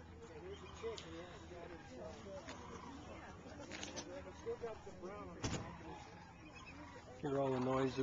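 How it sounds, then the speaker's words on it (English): Birds call and coo repeatedly in the open air at sunset, with people talking now and then and a steady background hum, some vehicle noise near the end. "Hear all the noises of the birds."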